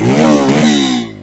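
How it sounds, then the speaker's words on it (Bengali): A Bajaj Pulsar N250 250cc motorcycle exhaust revs up close in one short, loud, smooth rising and falling burst, with no talking. "যদি এক্সস্ট ধরি, এক্সস্টটা একটু দিয়ে দেখ দিনে, ঘুরিয়ে দেখ দিন, অনেক স্মুথ একটা সাউন্ড।"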